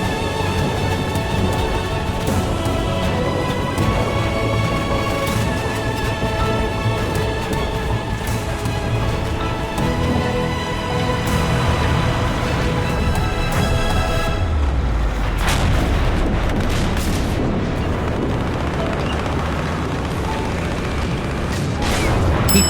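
Churchill tank in a video game taking repeated hits from several enemy tanks: dense, continuous booms, metallic impacts and mechanical clatter of battle, loud throughout with a heavy low-frequency rumble.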